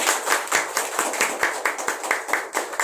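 An audience claps together at a public talk, a brisk burst of steady hand clapping lasting a few seconds, with no voices over it.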